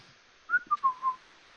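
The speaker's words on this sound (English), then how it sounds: "just whistling a little bit" A person whistles a short, soft tune of four notes, the middle tones sliding gently downward, heard close and alone in a quiet room.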